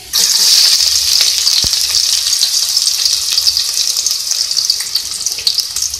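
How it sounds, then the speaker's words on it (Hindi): Hot oil hisses loudly and steadily as onions go in to fry for a dhaba-style daal mash, a close, dense sizzle with a single sharp knock partway through and no speech. "सबसे पहले ऑयल में हम प्याज ऐड करेंगे"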